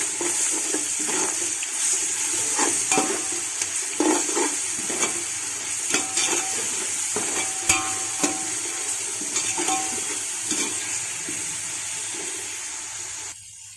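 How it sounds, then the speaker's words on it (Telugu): Ginger garlic paste fries in a pan for chicken pulao, giving a steady, close sizzle with scattered scrapes and taps from stirring throughout. "అల్లం వెల్లుల్లిపాయ పేస్ట్ వేసుకోవాలి. పచ్చి వాసన పోయే వరకు వేయించుకోవాలి."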